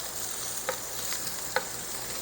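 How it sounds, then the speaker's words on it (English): Butter melting in a pan for a Philly cheesesteak, a soft, even sizzle with a few faint clicks, close and quiet, no voices. "So we're going to add that butter in now."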